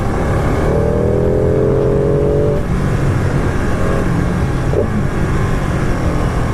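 A Ducati 959 Panigale motorcycle rides through Cambridge, its engine a loud, continuous drone close to the mic, with a rising rev in the first half and steady road and wind roar beneath.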